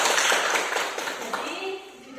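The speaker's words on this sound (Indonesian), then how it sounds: "tepuk tangan." A small counseling group in a classroom claps hands together in a brief, fairly close burst of scattered claps that tapers off, with a soft voice murmuring underneath.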